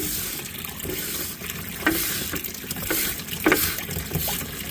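A brush stirs and swishes water inside a micro cell sluice used for cleaning up fine gold, making close, continuous watery splashing with a few sharper sloshes and drips.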